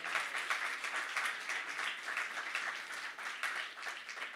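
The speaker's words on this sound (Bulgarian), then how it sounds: "аплодисменти за нея" Audience applause for Yoana Mircheva at a Bulgarian literary reading event, a steady crackle of clapping from a modest crowd, sustained at even strength throughout with no voices.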